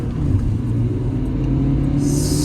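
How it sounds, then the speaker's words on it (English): A 2018 Dacia Duster with a tuned dCi diesel accelerates hard through its gears, giving a loud, steady engine rumble close by. "I'm going to show you the acceleration from the standard to the upgraded one."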